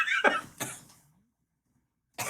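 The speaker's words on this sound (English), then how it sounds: "It doesn't help if you do the death cough right after" A few harsh, close coughs in quick succession, rough and chesty, then a pause of silence before a final burst.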